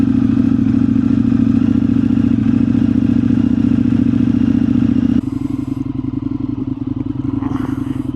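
An Indian FTR 1200 motorcycle engine runs steadily and loudly close up on the ride, a deep continuous thrum that eases to a slightly lower, quieter note partway through.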